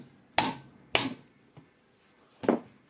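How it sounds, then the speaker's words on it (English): Sharp hammer taps knock a part out of a sanding machine during repair, three firm strikes and one lighter tap spaced irregularly, close and distinct against a quiet room. "just with a hammer"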